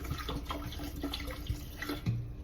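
Bottled water is poured into a tea jug, giving a soft, close trickle with light drips and a couple of small clunks, fairly quiet throughout.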